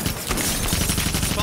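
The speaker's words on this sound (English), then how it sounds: "Follow the gunshots." Rapid gunfire from a shootout in the TV series Hawaii Five-O, a dense burst of repeated shots crackling steadily under loud action-scene sound for the full moment.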